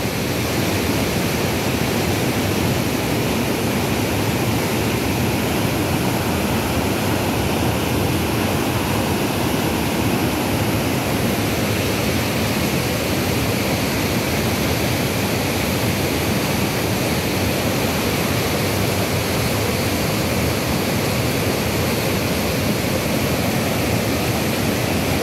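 Water cascades over the overflowing Loreto San Marcos dam, a loud, unbroken roar of rushing, crashing water that fills the whole span at close range without any pauses or talk.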